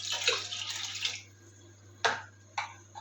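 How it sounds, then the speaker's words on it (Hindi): A cup of water poured into milk in a pot on a medium flame while making rice pudding: a splashing pour for about a second, then two short separate splashes, close, over a steady low hum. "इस दूध में हम 1 कप पानी डालेंगे।"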